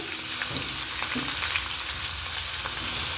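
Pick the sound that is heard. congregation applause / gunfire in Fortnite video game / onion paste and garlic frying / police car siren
onion paste and garlic frying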